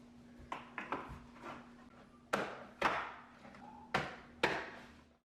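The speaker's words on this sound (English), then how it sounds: "now this new weather strip will clip on the bottom of the door" A vinyl slide-on under-door seal is tapped onto the bottom of a door, giving a series of about eight sharp, close knocks in irregular clusters, each with a brief thud and ring-off, over a faint steady hum.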